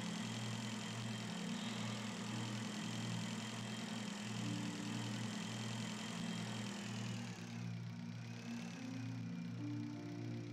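A motorbike in the space game Breathedge idles with a steady low mechanical hum and faint rhythmic pulsing, quiet and continuous with no talk.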